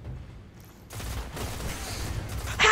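Queen Breaker's Bow firing in the Destiny video game, a quiet start giving way to a clustered burst of sharp shots and crackling gunfire that builds louder toward the end, with no voices.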